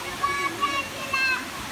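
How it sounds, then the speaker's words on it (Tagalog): A shallow river stream rushes steadily and close by, with a continuous broad watery roar, faint high whistles and faint background voices. "ang river mababaw lang. Sapa siya."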